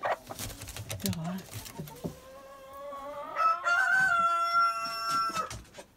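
Hens cluck softly nearby, then a rooster crows loudly and at length, close to the listener, at a poultry farm.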